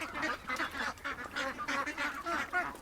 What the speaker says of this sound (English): the coyotes are so focused on the noise the ducks are making